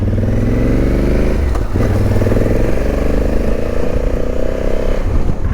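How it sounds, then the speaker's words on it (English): A motorcycle engine roars loudly and steadily as it rides along, with wind rush and a brief shift in pitch partway through. "I'm on the motorcycle."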